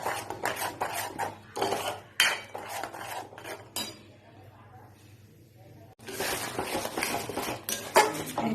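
Masala spice paste for a Mughlai chicken curry being stirred and fried in a pan, with rapid, repeated scraping and clinking of a spoon on metal, a brief lull in the middle, and frying noise underneath.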